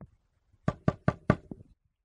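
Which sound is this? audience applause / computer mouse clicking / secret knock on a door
secret knock on a door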